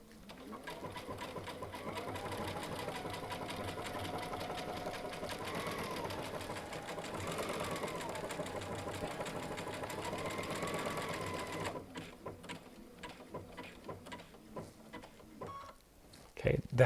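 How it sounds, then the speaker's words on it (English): A Baby Lock sewing machine fitted with a Teflon foot stitches leather in a steady, rhythmic mechanical whir for around twelve seconds, then stops, leaving quiet handling noises and a final clunk. "and I'm going to start sewing."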